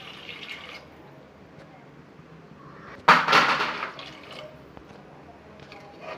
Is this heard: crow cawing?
no